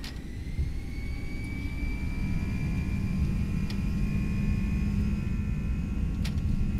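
Airbus A319 jet engines spooling up for takeoff in a flight simulator, a steady loud rumble with a rising whine as thrust builds, alone and unbroken throughout.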